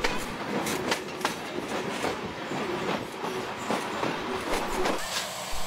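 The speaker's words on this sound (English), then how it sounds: "Our locomotive was built in 1907 as a wood burner." A wood-burning steam locomotive built in 1907 rolls along the rails with a loud, continuous rumble, rhythmic clickety-clack of wheels over joints and occasional metallic squeals, heard close from aboard the train.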